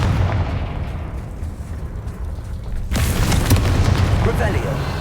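A Confringo fire explosion spell in Hogwarts Legacy goes off with a sudden loud boom about midway, followed by crackling, sizzling debris over a low rumbling game soundscape.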